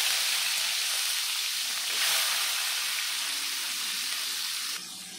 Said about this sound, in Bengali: টমেটো আর পেঁয়াজ ভাজা ভাজা হয়ে গিয়েছে